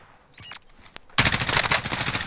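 Automatic gunfire in Call of Duty: Warzone, an M4A1 and Bullfrog loadout, erupting into a loud, sustained burst of rapid shots after a quieter stretch with a single sharp crack.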